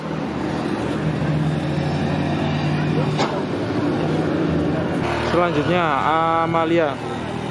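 Tour buses roll past at HeHa Sky View in Jogja. A steady engine rumble passes close by, and a loud, musical multi-tone horn sounds near the end. People talk over the traffic.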